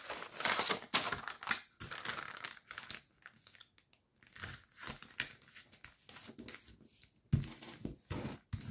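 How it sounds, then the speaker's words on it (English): Sheets of origami paper rustle and crinkle up close as a large flap is folded over and squash-folded, in irregular bursts of crisp handling noise with a short lull midway. "fold that big flap over to the other side, and then squash folding that flap too"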